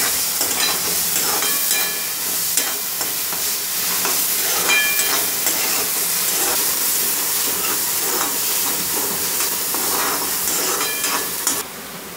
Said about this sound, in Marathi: ते चांगलं तेलात परतून घेऊया।